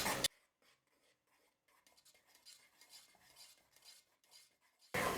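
An egg whisk stirs gram flour into sugar syrup for Mysore pak, giving quiet, continuous scraping and swishing against the pot with no talking.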